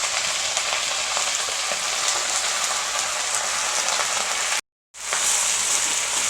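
Drumstick leaves sauté in a pan as a continuous crackling sizzle like steady rain, broken by a brief total silence near the end before the sizzle resumes, with no voices.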